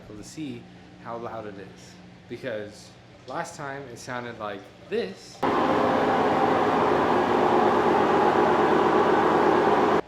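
A home washing machine runs a drain and spin cycle before repair, a loud steady whooshing rumble that starts abruptly halfway through, following a person talking close by.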